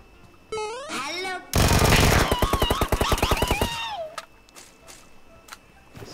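Sustained automatic gunfire in the mobile game PUBG Mobile, a loud rapid burst of several seconds after a shorter opening string of shots, close and dominant, with a voice speaking over it.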